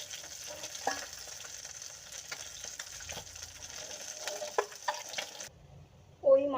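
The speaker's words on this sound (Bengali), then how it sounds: "প্রথমে আমি 5টা মাছ ভেজে নেব।" Five parshe fish fry in hot oil in a pan, sizzling with a steady close crackle that stops abruptly near the end, followed by a brief clatter.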